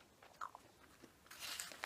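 Quiet, close crunches from biting and chewing a Nestle Carlos V milk chocolate bar, a few brief crisp snaps over under two seconds, with no talking.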